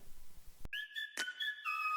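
A person whistles a few clear, sustained high notes, close and alone, after a brief sharp knock.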